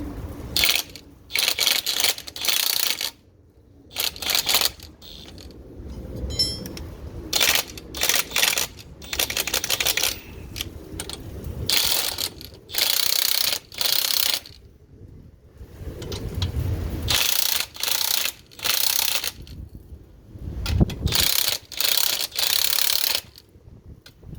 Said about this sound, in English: Going to tighten this down with impact.